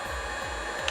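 A Wagner heat gun runs with its fan on the low setting, giving a steady close whirring blow with a faint pulsing undertone throughout the short moment.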